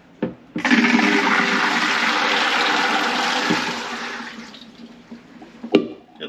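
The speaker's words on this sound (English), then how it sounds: "Let your peas strain." Cooked English peas and their hot water are poured into a colander to drain, a loud rushing gush lasting about four seconds that tapers into trickling, with a light knock at the end.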